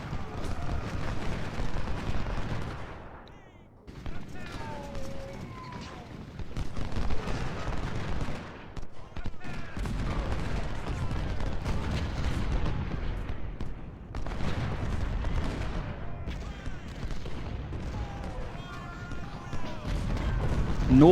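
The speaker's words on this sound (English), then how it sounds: "A lot of guns here." Continuous Civil War battle din from the Ultimate General: Civil War game: dense rolling musket volleys and booming artillery rumble in overlapping waves, with brief lulls, filling the scene without any talk.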